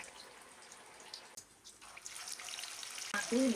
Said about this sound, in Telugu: ఆయిల్ బాగా హీట్ అయ్యాక అవి ఫ్రై చేసుకోవాలి